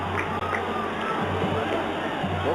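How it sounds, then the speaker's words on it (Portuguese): Guarani fans applaud in a football stadium during a Paulista championship match in Itápolis, a broad, steady crowd wash with scattered claps and distant shouts. "Torcedor do Guarani aplaudiu esta chegada do seu atacante."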